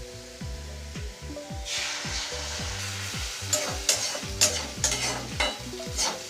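Beaten egg hitting a hot pan with fried carrot and potato, a loud sizzle and spatter that swells partway through, over repeated scraping stirs of a spatula, close up with no voices.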